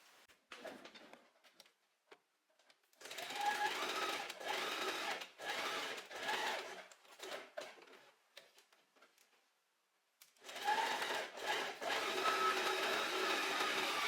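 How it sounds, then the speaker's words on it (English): A sewing machine stitches a dress strap in several loud, steady runs, pausing briefly between passes, with a few soft clicks in the quiet gaps. "And then I'm going to sew along here."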